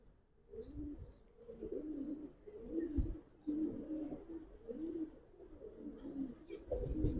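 Giribaz pigeons coo in a low, repeated rolling rhythm, several soft close calls overlapping, faint overall with no talk.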